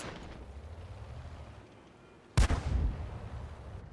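Tank gun fire in World of Tanks from an SU-85 or StuG III G, a single sharp, heavy boom partway through that rolls off into a rumbling decay over the low engine drone.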